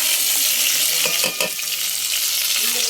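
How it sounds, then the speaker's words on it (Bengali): Onion, chili, cardamom and bay leaf hit hot oil in a kadai and fry with a loud, steady sizzle throughout, briefly stirred midway, with no talking. "যে এখানে আছে পেঁয়াজ, লঙ্কা, এলাচ, তেজপাতা, এগুলো সব একবার এখন ঢেলে দেবো।"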